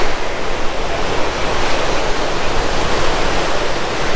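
Waves break and wash ashore at Imperial Beach in southern California, a loud, close, continuous roar of surf with some wind noise on the microphone and no talking.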